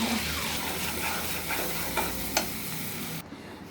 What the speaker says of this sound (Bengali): তেলে তেজপাতা দিলাম, জিরা ফোড়ন দিলাম